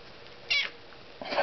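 A pet cat meows twice, a short clear call followed a moment later by a longer, louder one, close by with a faint room hiss between them and no talking.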